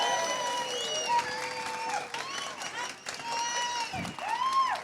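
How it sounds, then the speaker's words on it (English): Crowd applause at a gathering, a dense, continuous clapping wash mixed with cheering and whooping voices that rise and fall throughout. "Huge round of applause, please."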